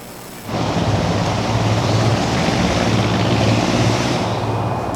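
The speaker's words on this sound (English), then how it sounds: "Airplane." Jet airplane passing overhead near a busy Atlanta airport, a loud, steady broadband roar that swells in abruptly and holds for several seconds with no speech.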